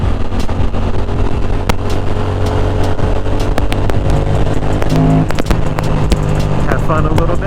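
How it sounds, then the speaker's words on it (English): Motorcycle riding at higher speed on the Vista Loop road in San Diego, with a loud continuous engine and wind roar and someone talking over it throughout. "good experience for you to kind of get used to being at a higher speed on a motorcycle"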